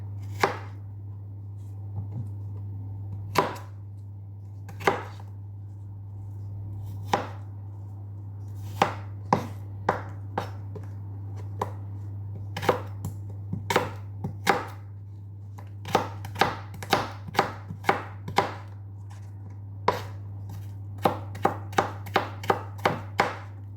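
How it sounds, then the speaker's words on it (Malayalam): An apple cut into small pieces on a board, sharp knife chops landing close and clear, sparse at first and then in quicker runs, over a steady low electrical hum with no voices. "ഈ ആപ്പിൾ ഞാൻ ഇതുപോലെ ചെറുതായിട്ടൊന്ന് കട്ട് ചെയ്തെടുക്കട്ടെ"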